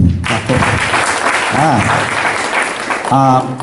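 A graduation audience claps, a dense burst of applause that carries through, while voices shout and talk over it.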